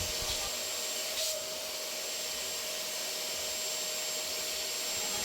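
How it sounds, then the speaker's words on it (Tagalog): A vacuum cleaner sucking up bird mess runs steadily throughout with a constant high whine and airy roar, close by, with no talking. "minsan ang aking daliri ay nahihigop ng vacuum"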